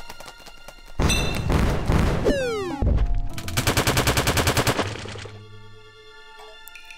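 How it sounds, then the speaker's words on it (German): A loud collapse at an entrance in the retro-style adventure game Ocean's Heart: a heavy thud and crashing rumble, then a rattling run of rapid impacts that gradually fades, with no talk over it. "es klang, als wäre beim Eingang etwas eingestürzt"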